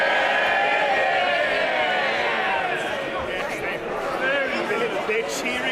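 MPs cheering and shouting in the House of Commons chamber after a close vote result on emergency Rwanda legislation, a dense, sustained roar of many voices filling the room at steady loudness.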